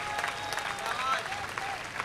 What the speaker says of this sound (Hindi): आपकी तालियां कमजोर है मेरे भाई।